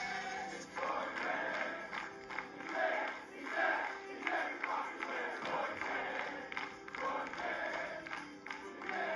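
A large football stadium crowd sings a rhythmic chant in unison, rising and falling in steady pulses, with the roar of many voices filling the stands at a Premier League match.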